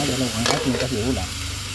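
Pork pieces for menudo are stirred in a hot frying pan, giving a continuous loud sizzle with scraping stirs under a faint tonal background.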